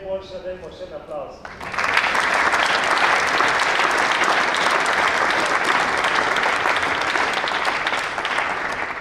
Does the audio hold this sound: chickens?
no